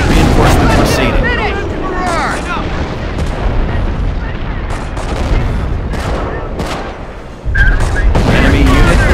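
Gunfire and explosions in a Company of Heroes battle on Hill 331, a dense, loud barrage of shots and booms with rising whistles, while voices call out over the fighting.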